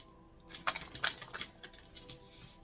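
Soft, quick riffling and tapping of cards being shuffled, a few crisp bursts close by over a quiet background.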